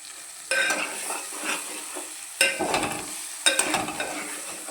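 Egg and tomato curry fries in a pan with steady sizzling, broken by three bursts of stirring and scraping that each flare up and then settle back into the frying hiss.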